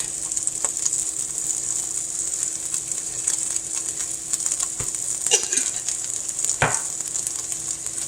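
Garlic and pork sizzle steadily in a hot pan, a continuous bright hiss with a few sharper crackles and pops, close and fairly loud, with no talking.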